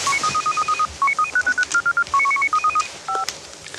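A telephone number being punched in: a fast series of short DTMF keypad beeps, about two dozen evenly paced tones, clear and close with no talk.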